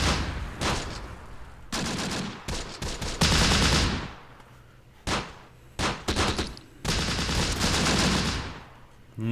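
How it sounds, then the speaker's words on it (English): Soldiers' gunfire in the video game Close Combat, repeated bursts of rifle and machine-gun fire, loud and up close, with short pauses between volleys and no talking. "Nice shooting, boys."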